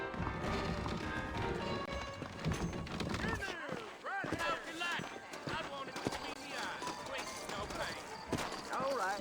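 Horse hooves clip-clop at a walking pace beneath a voice talking, with the clatter of other game sounds in the background, in Red Dead Redemption.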